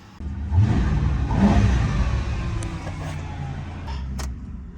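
An old police patrol car with a leaking transmission runs close by, its engine a loud, steady rumble that swells briefly early on and then eases slightly, with a few faint clicks near the end.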